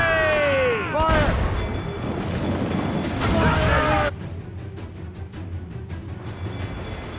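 Ship cannons fire in a naval battle in Assassin's Creed Rogue, heavy booming blasts in a rapid volley with crashing impacts, under a shouted voice and tonal game music.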